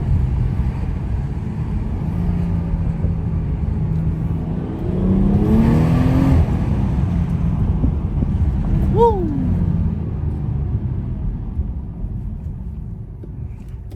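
A 400 hp BMW 340i drives through the city late at night, its steady engine and road roar swelling briefly around the middle as it accelerates, with wind rush throughout and a short whistling tone near the end.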